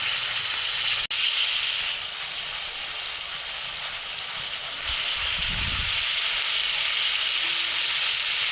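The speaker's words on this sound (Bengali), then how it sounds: "এখন ডালটা আমরা খুব আস্তে আস্তে দিয়ে এই টমেটোর ভেজে নেব" Tomatoes fry in a pan for a tomato bharta, giving a steady broadband hiss and sizzle with a brief dropout and a soft low thump partway through.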